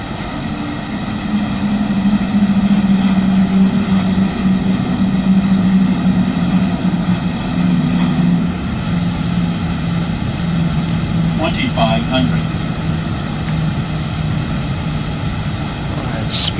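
Steady drone of a simulated BAE 146-300 four-engine airliner on a steep landing approach into Takoradi, a constant engine hum with faint clicks and cockpit tones.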